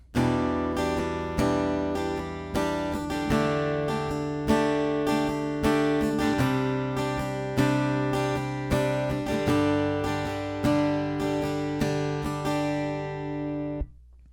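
An acoustic guitar strums the OO section of a song in a steady rhythmic pattern of ringing chords with regular chord changes, close and full with no talking.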